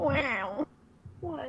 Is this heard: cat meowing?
yes